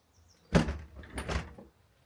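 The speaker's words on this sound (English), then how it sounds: "you have an additional door here that goes out to the backyard" A door to the backyard of a Bozeman home opens in two quick close bursts: a clunk of the latch and hardware, then a scraping swing, both over a quiet room.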